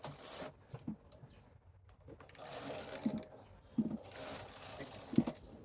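Knitting machine carriage sliding across the needle bed to knit rows of a two-colour lace pattern, close rasping swishes in several sweeps separated by pauses, with sharp mechanical clicks between passes.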